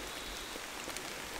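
Steady rain falls outdoors as a soft, even hiss at low volume, with no voices over it.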